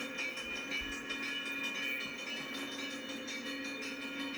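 Train at the Crystal Lake station in Illinois, fifty miles northwest of Chicago, with a steady mid-level rumble and a hissing wash of rail noise that holds continuously, no voices.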